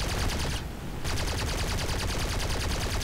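Aircraft cannons in War Thunder fire in rapid, continuous bursts, loud and dense, with a brief break before the firing resumes.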